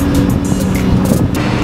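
An Audi R8 Spyder sports car on a test drive in Dubai roars loudly as it pulls away, a dense, sustained engine rumble with no talk over it.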